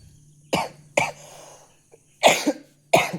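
Four sharp coughs from one person, close and loud, in separated bursts with short pauses between them.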